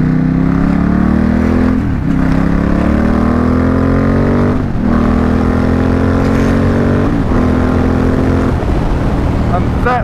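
A Ducati X Diavel S motorcycle accelerates hard through several gears, its loud engine rising in pitch with each gear and dropping briefly at every shift, heard close up.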